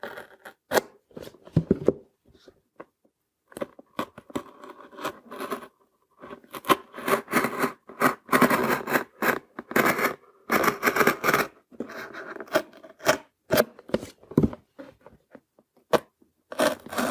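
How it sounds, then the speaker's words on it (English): Scissors cut through cardboard to make an enclosure for a Raspberry Pi bench computer, giving close, crunchy snips in irregular runs separated by short pauses. "let's start removing cardboard. So cut as straight as you can."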